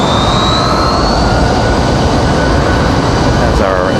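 A CRJ regional jet departs at Raleigh-Durham International Airport, a loud, steady roar of jet engine noise with a rising whine, continuous and close throughout.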